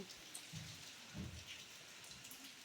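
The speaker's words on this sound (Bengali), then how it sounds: "এই দেখো, এখনও কিন্তু বৃষ্টি পড়ছে।" On a rainy day, light drizzle falls outdoors as a steady, faint hiss of drops. A couple of soft low thumps rise through the patter, and no one speaks.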